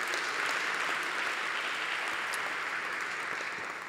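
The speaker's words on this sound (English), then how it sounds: "Come on, I want to hear a round of applause." A conference audience gives a dense, sustained round of applause at closing remarks. The clapping is steady and fairly distant throughout and tapers slightly at the end.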